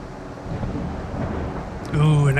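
Rumbling thunder from a thunderstorm in the naval combat game Sea Power, a steady low roll throughout with a louder swell near the end, mixed with in-game ambience.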